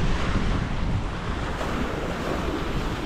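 Strong waves break at Woodbine Beach in Toronto while a stiff wind blows. A dense, constant roar of surf and gusting wind fills the whole stretch, loud and close, with no voices.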